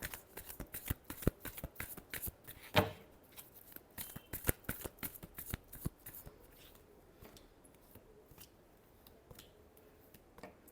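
Tarot cards being shuffled by hand, a run of crisp riffling flutters and sharp taps, dense at first and then thinning into scattered clicks, close and quiet.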